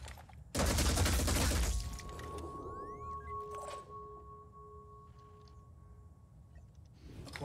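A burst of loud gunfire from the Phoenix Point video game, roughly a second of dense automatic shots, followed by lingering electronic tones and low ambient game hum.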